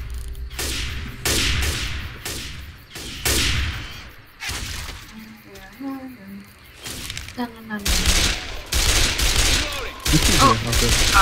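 Explosive frag-round gunfire in Left 4 Dead 2 rings out in a rapid series of loud, close bursts with sharp cracks and blasts, at times crowded together, while players talk over it.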